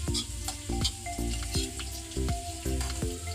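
An egg fries in a pan while egg fried rice is made, a close continuous sizzle broken by a steady run of sharp spatula taps and scrapes against the pan.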